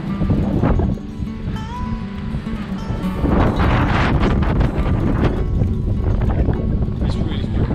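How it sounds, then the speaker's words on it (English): Strong gusting wind on the Costa Rica coast buffeting close and loud, a continuous roar that swells in the second half. "It's really windy."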